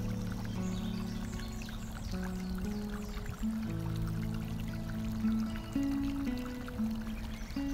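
Gentle flowing water trickling and pouring continuously at moderate level, with a sustained low tonal hum running underneath for a calm meditation setting.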